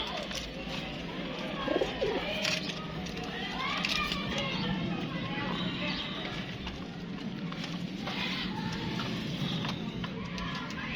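Breeder pigeons coo softly and repeatedly in a loft, a low, bubbling murmur running under people talking nearby.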